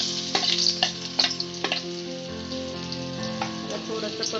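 Chopped onion sautés in hot oil with mustard seeds and cumin, a continuous soft sizzle with occasional crackles and light stirring taps, alone without talk.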